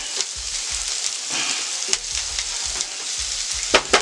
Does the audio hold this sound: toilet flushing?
no